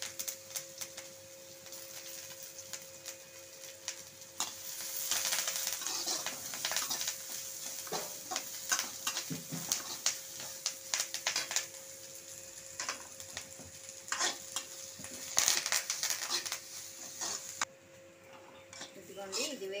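Ridge gourd peel and curry leaves fry in a pan with a crackling sizzle, joined by frequent sharp ticks and scrapes of stirring against the pan, while someone talks intermittently over the cooking.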